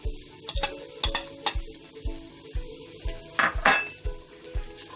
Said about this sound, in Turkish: Şimdi yağlarımızı tenceremizin içine koyuyorum.